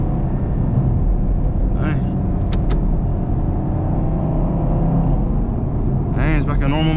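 A Chevrolet Camaro SS driving at night in heavy rain, a steady low engine and road rumble filling the cabin, with brief voice sounds over it.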